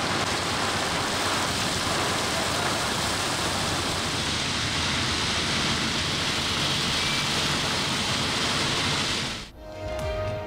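Winter rain falls over Karachi, a broad, dense wash of steady hiss with no distinct drops, loud and continuous until it fades and cuts off shortly before the end.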